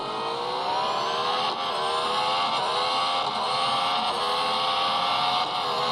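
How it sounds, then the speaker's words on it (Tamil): Race cars accelerate at the start of a race, their engines holding a loud, continuous, rising roar with overlapping revving tones throughout. "ரேஸ் வந்து ஸ்டார்ட் ஆயிடுச்சு."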